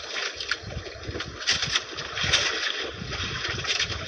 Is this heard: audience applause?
no